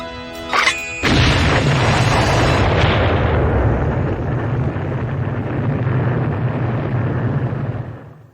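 Bomb explosion in the TV comedy Sledge Hammer!, a brief tonal music sting cut off by a sudden huge boom that rumbles on heavily, then slowly fades away.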